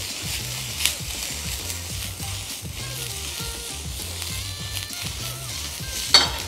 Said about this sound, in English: So let's saute some onions very quickly along with a little bit of chilies and garlic.